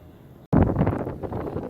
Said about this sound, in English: it's really windy and cold